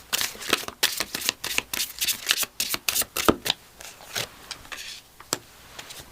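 Creativity oracle cards being shuffled by hand, a rapid run of crisp papery riffles and taps coming close and fairly loud, with brief pauses between bursts and no voices.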